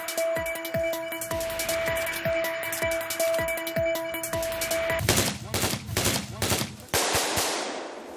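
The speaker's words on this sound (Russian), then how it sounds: "Слева стреляют, справа взрывается шашка" Military training exercise with rapid automatic gunfire on one side and smoke grenade charges bursting on the other: loud, dense volleys with a steady tone underneath, then a heavier, booming burst of blasts and rolling reports near the end.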